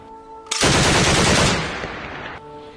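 A loud, sustained burst of rapid gunfire rattles for nearly two seconds before cutting off, set against a quiet background hum.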